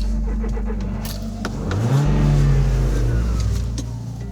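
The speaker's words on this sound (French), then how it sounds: "Faire rugir son moteur." A car engine at a safari-style zoo revs hard to scare off a young lion, rising from idle into a loud surging roar that peaks, holds, then eases back down, close by with no talk.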